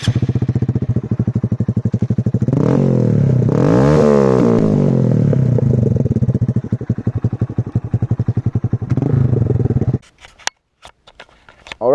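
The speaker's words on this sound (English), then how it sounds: "let's just do some wheelies with this Grom" A Honda Grom motorcycle engine revs hard and rises and falls in pitch as it pulls wheelies, loud and close, then drops away into sputters and clatter near the end.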